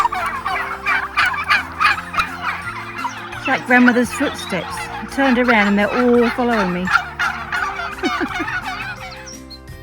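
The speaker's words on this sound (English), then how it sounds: "Footpath going straight through the turkeys." Turkeys gobble and cluck repeatedly from a close flock on a farm, heard from a footpath running through them, many calls overlapping, while a person talks over them.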